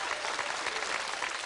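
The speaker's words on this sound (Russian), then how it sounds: "Еще никогда в жизни у нас зал не аплодировал так человек" A studio hall audience applauds: dense, steady clapping from a large crowd, loud and continuous throughout without a break.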